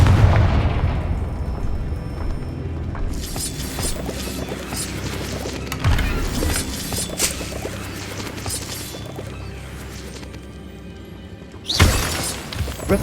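Confringo blasting spell detonating in Hogwarts Legacy, heavy booming explosions with shattering crashes and debris, a big blast at the start, dense rumbling mid-section, and another sharp burst near the end, loud and close.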